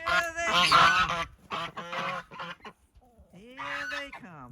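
Chickens, geese and ducks being released from a coop, with loud overlapping honks and clucks in a near, busy chorus that pauses briefly midway, then resumes.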